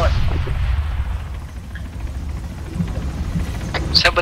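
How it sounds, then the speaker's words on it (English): A military helicopter in the video game ArmA rumbles low and loud throughout, a steady rotor drone with faint scattered impacts and a few sharp bursts near the end. "Oh, helicopter support."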